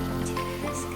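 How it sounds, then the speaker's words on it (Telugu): Rain falling steadily on a village, a continuous soft patter of drops on surfaces heard close and alone, with no voices. "మా ఊళ్ళో వర్షం పడుతుంది"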